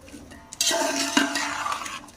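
Peas, potatoes and carrots for a vegetable pulao hit a hot pot and start sautéing, with a sudden burst of sizzle followed by steady frying hiss and a stirring clank, close by.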